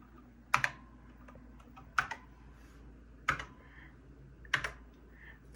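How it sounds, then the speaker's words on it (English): Four separate, evenly spaced keystrokes on a NABU computer keyboard click close and crisp in a quiet room, with a faint hum underneath. "So now we can use the NABU keyboard"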